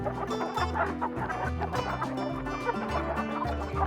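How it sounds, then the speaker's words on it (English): Chicks clucking and chirping steadily on a farm, with layered calls from several birds close by, no talking. "the little chicks chirped in the background"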